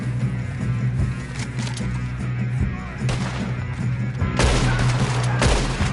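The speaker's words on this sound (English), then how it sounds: "Shoot him." Gunfire during a shootout in the Red Dead Redemption 2 video game: loud, dense volleys of shots layered over continuous game noise, with several heavy bursts standing out, and no voices.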